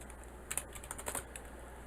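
Rapid, light clicking of keys on a computer keyboard, irregular bursts of close keystrokes at low level with no voices.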